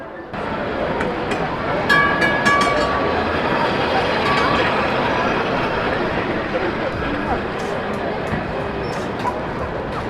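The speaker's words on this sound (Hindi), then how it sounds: "तो ये ट्राम थी जिसके अंदर मैं था यहाँ पे, और ये चल रही है एक डब्बे की तरह है, ट्रेन की डब्बे की तरह" Tram running along a pedestrian shopping street, Istiklal Street in Istanbul, heard from outside as a steady loud rumble with clicks and street crowd noise throughout.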